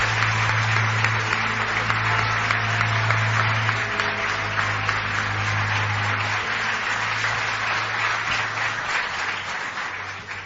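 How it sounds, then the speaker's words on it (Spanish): A studio audience at a Spanish radio programme gives sustained applause, a dense, even roar of many hands clapping at steady loudness for about ten seconds, with a low steady hum underneath. "Y pido un aplauso para Jesús, que ya se acerca por aquí."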